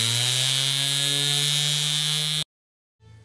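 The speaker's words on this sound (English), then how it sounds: "I'm using a rotary sander, but you can use any type of sander, even sandpaper, to get the job done" A rotary sander roughs up a surface to take off its sheen before tiling a kitchen island, giving a loud, steady motor drone with a buzzing whine that cuts off abruptly, followed by a faint short rumble.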